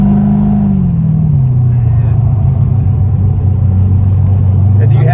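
A 1987 C4 Corvette engine idles and is briefly revved, its deep, loud rumble dropping in pitch as the revs fall, then swelling again, heard up close.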